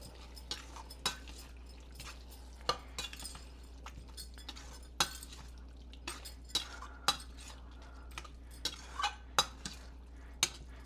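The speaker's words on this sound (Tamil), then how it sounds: "இப்போ வந்து நல்லா சேர்த்து கலந்து விடுங்க" A utensil stirs prawns coated in masala in a pan, producing faint, scattered metallic clinks and scrapes at an uneven pace over a low steady hum, quiet and close with no talking.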